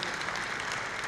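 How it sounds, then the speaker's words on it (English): Audience applause breaks out to honor a child who received a walker funded by the local community, steady dense clapping filling the short moment without pause. "that deserves a clap"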